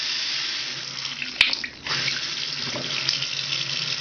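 Tap water runs steadily into a bathroom sink while a toothbrush is rinsed, a close hissing splash with a brief knock and a short dip midway.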